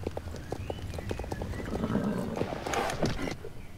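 Horse hooves clip-clop at a steady walking rhythm in the online horse-riding game Star Stable Online, with a short whinny and ambient game sounds underneath.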